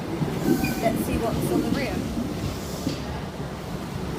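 Train rumbling at Plymouth station on the Great Western Main Line, a steady low mechanical drone filling the platform with faint higher squeals, while a person talks over it.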